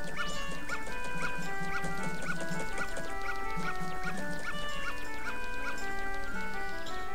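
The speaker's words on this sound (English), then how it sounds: "The dog." Cartoonish dog barks from the video game Zelda: Majora's Mask, a run of short yappy calls repeating over steady game music, loud and close, with no talking.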